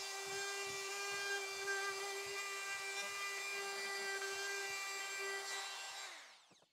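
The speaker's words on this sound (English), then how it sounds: "Now I'm gonna run my router around the edge here and give it a lip just like this." Router cutting a lip around the edge of a wooden poker table, a steady loud high-pitched whine with rough cutting noise that spins down at the end.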